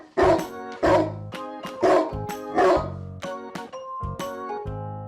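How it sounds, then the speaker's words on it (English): A dog barks in repeated loud, sharp bursts, about five or six barks spaced roughly evenly and close to the listener, each with a short whimpering tail, with no talking. "Dog."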